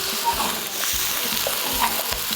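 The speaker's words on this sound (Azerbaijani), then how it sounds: "Yəni bizim atdığımız ciyərlər dərhal yağına düşür və yağda qızarır." Chicken liver frying in hot oil in a wok, a steady close sizzle with repeated short scraping stirs at a fairly even rhythm, no voices over it.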